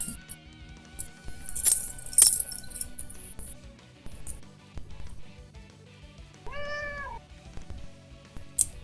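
A cat called Firecracker gives a single clear meow partway through, heard close over a quiet room with a few light clinks and rustles.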